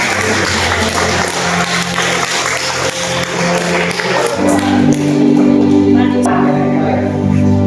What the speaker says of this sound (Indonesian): kita sekali lagi beri aplaus yang meriah